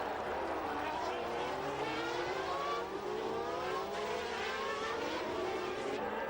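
1991 Formula One race cars scream past, Ferrari and McLaren engines in a sustained high-pitched roar with rising and falling pitch sweeps, heard under continuous commentary.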